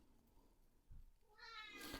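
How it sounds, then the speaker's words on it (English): A domestic cat gives a single short, faint meow at close range in a quiet indoor room, with no talking. "So that's Angelina, that's my cat."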